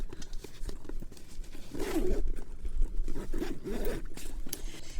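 Zipper on the front pocket of a sewn cube-shaped travel bag being pulled open, several quick rasping strokes close up, moderately loud and scratchy, with no talk over it.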